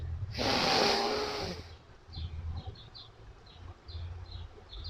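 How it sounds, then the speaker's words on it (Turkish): A deep inhalation during a pregnancy breathing exercise, one long, loud, airy intake of breath lasting about a second and a half, followed by faint soft background sounds. "Nefes alıyorum"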